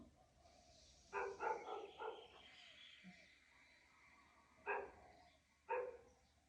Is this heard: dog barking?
yes